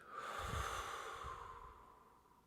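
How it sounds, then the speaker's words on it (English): A slow, deep breath in through the nose and out through the mouth during a guided meditation, one sustained airy breath, close and soft, with no talking. "Inhale through the nose. And exhale through the mouth."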